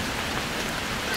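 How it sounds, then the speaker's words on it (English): Heavy rain pours down at a campsite on Mount Spec near Big Crystal Creek, a dense, loud, continuous hiss with no voices. "And it still is raining."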